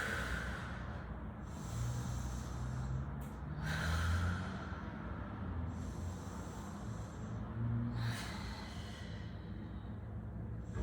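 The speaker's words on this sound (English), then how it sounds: "5 deep breaths right here" Deep slow breathing held during a yoga stretch, several long airy inhales and exhales at an even pace, close and soft over a low steady background.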